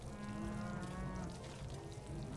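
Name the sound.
cows mooing in the video game RimWorld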